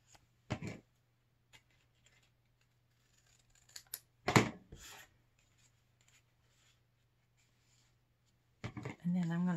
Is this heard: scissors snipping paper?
yes